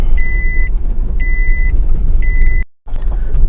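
A Nissan NV200 van with an ABS communication fault and no speed reading rolls along a dirt road with a steady low rumble and road noise, while a repeating beep chimes three times in short bursts before a brief cutout.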